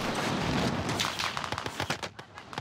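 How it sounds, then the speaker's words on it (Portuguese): Gunfire in Call of Duty during a competitive online match: a dense stream of rapid, overlapping shots and bursts, loud and busy at first, then thinning into scattered cracks toward the end. "tá até muito tiro aéreo"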